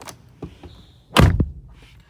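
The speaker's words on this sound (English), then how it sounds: "Very nice door thud sound." A solid, muffled thud of a 2026 Toyota Camry LE car door shutting, close and single, preceded by faint small clicks and handling noises.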